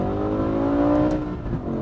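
A V10 car with a 7-speed SMG gearbox accelerating hard, its engine note rising steadily in pitch before a brief break around a gearshift, then continuing more roughly.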